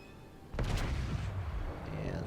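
A battleship main gun fires once in World of Warships, giving a sudden deep boom that rolls into a long rumbling tail over the game's steady background noise.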